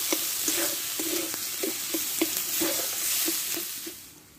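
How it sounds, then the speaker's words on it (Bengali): Boiled potatoes mashed with a spatula in a pan, heard as a regular series of soft thuds and scrapes at about two per second, with a faint sizzle underneath, close and alone. "তারপর খুন্তি দিয়ে ম্যাশ করে দেবো আলুটাকে।"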